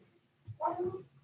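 A cat gives a single short meow indoors, brief and fairly close against a quiet background.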